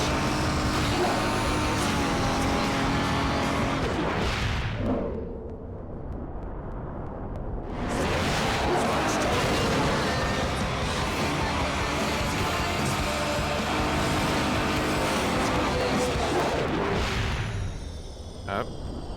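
A car engine roars loudly and continuously while driving in Midnight Club 3, dropping away for a few seconds before surging back and holding steady.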